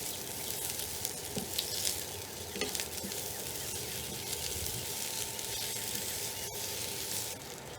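Sliced peppers and onions for fajitas sizzling in a pan, a continuous close hiss of frying with a few faint stirring scrapes and a soft tick near the end.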